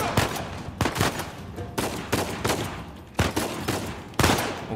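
Gunfire from a pistol in the Uncharted 4 video game on the hardest difficulty: five or six sharp, loud shots spaced unevenly about a second apart, each with a short echoing tail over a steady background.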